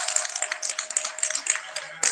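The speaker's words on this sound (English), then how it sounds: "So clap it up for all the Slam Masters." Light, thin clapping from a small audience at a poetry slam event, scattered claps heard quietly with a voice speaking over them.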